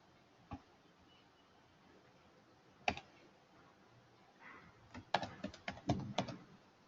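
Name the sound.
computer mouse clicks and keyboard typing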